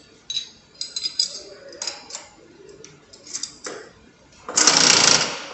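A manual milling machine as the tool is brought into the spindle: a series of sharp mechanical clacks and rattles, then a loud steady whirring grind near the end, close and without speech.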